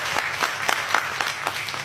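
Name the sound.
audience applause at a temple speech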